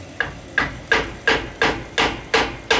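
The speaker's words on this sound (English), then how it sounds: "you could just tap on with a hammer, but I'm going to use a piece of wood" Eight steady hammer blows strike a wooden block to drive in a bearing at an even pace, each a sharp close knock with a short ring, no voices.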